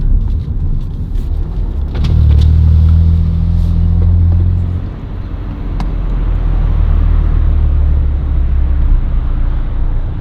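A tuned car fitted with an aftermarket intake and downpipe rumbles and accelerates nearby, a loud deep engine roar that swells, dips briefly, then builds again, with no talking.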